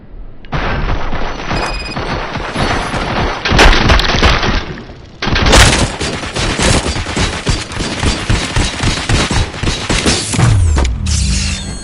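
Heavy gunfire fills a fight in the video game Robocop: Rogue City. Loud, continuous bursts of shots blend with booms and shattering impacts, with brief breaks between volleys.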